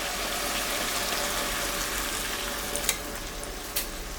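A pan of vegetable stems, seasoned with salt and turmeric, sizzles steadily as a little water is added, giving a constant hissing fry with a couple of brief clinks near the end.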